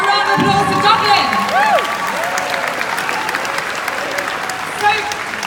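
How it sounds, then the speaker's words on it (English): A convention panel audience at Raleigh SuperCon gives a round of applause for Dublin, steady crowd clapping with some cheering, while a voice and short tonal sounds rise over it in the first couple of seconds. "Give a round of applause to Dublin."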